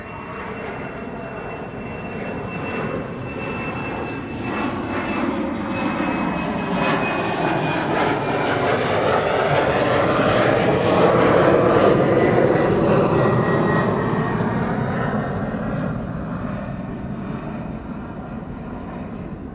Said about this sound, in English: 18 left, where TAP Air Portugal just now took off